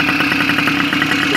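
A 2001 Tomos Sprint A66 50cc two-stroke scooter fitted with an A35 engine runs steadily nearby, a loud, even buzzing drone with a rapid pulsing beat and no voices over it.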